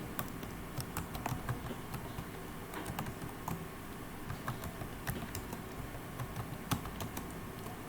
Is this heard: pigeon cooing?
no